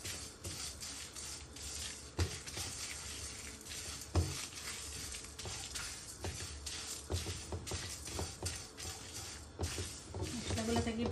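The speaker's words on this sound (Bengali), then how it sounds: "মশলাগুলো থেকে একটু সময় প্রপারলি ভাজা হয়েছে না, লো হিটে" Homemade Bangladeshi spices fry on low heat in a pan with a faint, steady sizzle, broken by scattered stirring scrapes and clinks of utensils against the pan. The sound stays quiet and close.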